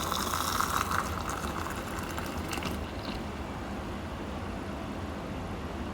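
Water pours into a laboratory beaker until it reaches the brim, a bubbling, splashing stream for the first few seconds that gives way to a quieter, steady background hiss.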